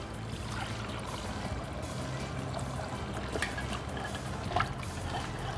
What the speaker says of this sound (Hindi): अब हम इसमें पानी ऐड करते हैं।